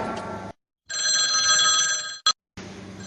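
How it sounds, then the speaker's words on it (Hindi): A telephone rings in a comedy scene, a steady electronic ring held for over a second between short pauses, loud and close. "ये जी फोन आ गया"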